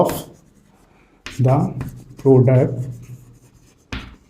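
A maths teacher writes on a board during a lesson: brief scraping strokes at the start and end, with spoken explanation in between.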